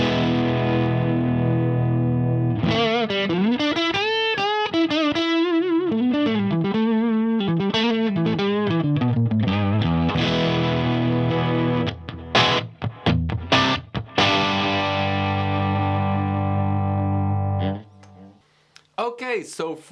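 A distorted electric guitar plays through a Marshall Origin 50 head with the gain fully up, ringing chords and busy riffs for about fifteen seconds, then choppy stabs and a brief pause with amp hiss, loud and close.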